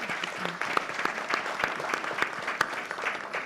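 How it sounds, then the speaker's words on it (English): A crowd applauds a panel at the close of a discussion session, steady dense clapping with a few sharper individual claps standing out over the whole stretch. "So can we give our panel a round of applause?"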